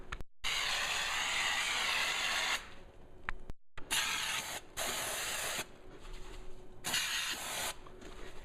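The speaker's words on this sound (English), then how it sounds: "we're going to spray the back" An aerosol can of glue sprays onto the back of a motorcycle trunk liner in several hissing bursts, some long and some short, separated by brief pauses, close and fairly loud.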